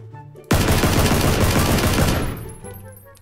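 A SCAR assault rifle fires a loud, dense full-auto burst for about a second and a half in a PUBG match, then cuts off and leaves a fading tail with faint background hum.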